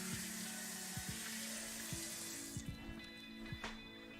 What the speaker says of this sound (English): after I rinse this cup out